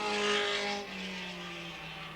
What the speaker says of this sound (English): And as the leaders start passing groups of cars.